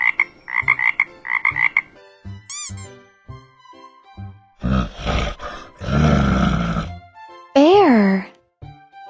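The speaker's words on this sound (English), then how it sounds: "Frog." A cartoon frog from a children's animal vocabulary game croaks in a loud burst of rough calls, with a voice clearly spelling and naming words before it and a squeaky effect after.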